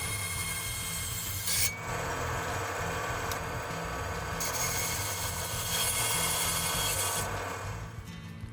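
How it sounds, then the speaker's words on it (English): A bandsaw cuts through a polycarbonate plastic part for a lightsaber build, giving a continuous close rasping, grinding whine with a low motor hum underneath and a few brief louder scrapes. "Now being polycarbonate, you should be able to cut that on the bandsaw without cracking or destroying the plastic."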